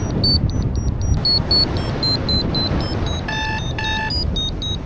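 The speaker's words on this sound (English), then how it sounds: "My airspace alarm again." A paragliding airspace alarm sounding in flight, with repeated high electronic beeps, then two bursts of faster multi-tone beeping, all over constant rushing wind.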